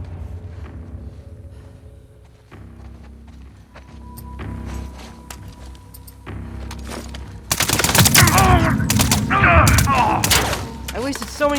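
Gunfire in the video game The Last of Us Part II: quieter footsteps and ambience give way to loud, rapid bursts of repeated shots that dominate the second half.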